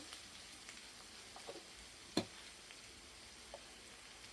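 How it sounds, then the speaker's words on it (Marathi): Masala fries quietly in hot oil with a pinch of asafoetida for a spicy egg dish. A soft continuous sizzle is broken by a few sharp ticks and pops. "हा मसाला तेलात भाजला की यामध्ये आपल्याला चिमूटभर हिंग घालायचे"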